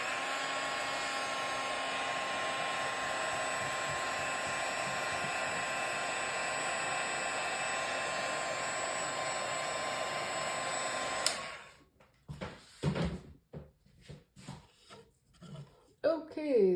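A hair dryer blows in a loud, steady whoosh on a decorated key holder for about eleven seconds, then cuts off, followed by light handling noises and a voice speaking.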